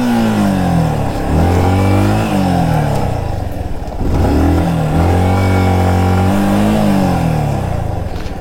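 A Yamaha R15 motorcycle revs repeatedly on a rough off-road trail in Idukki, Kerala, loud and close, its engine pitch climbing and falling in several strained bursts.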